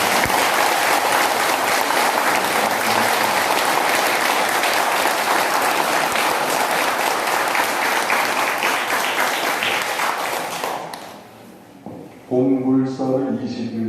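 Loud, dense applause from a Buddhist temple congregation in a lobby, honouring the president; sustained clapping that fades out, followed by a brief burst of speech.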